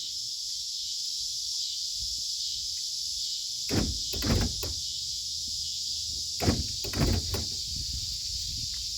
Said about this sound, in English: Doors lock and unlock, let you know you're in program mode.